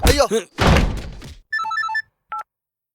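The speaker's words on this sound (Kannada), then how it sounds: "ಯಾರ್ ಫೋನ್ ರಿಂಗ್ ಆಗ್ತಿರೋದು?" A mobile phone rings in a short run of electronic beeping tones with a brief final chirp, following a few seconds of talking and a dull thunk, in a Kannada film scene.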